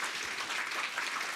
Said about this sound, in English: So first of all, round of applause for Amy and Jack.